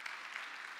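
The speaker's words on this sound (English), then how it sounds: "Can we give God a round of applause?" A church congregation applauds during a Sunday morning service, a steady wash of clapping filling the room for a brief moment without pause.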